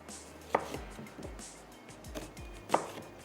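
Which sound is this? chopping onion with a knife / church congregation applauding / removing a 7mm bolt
chopping onion with a knife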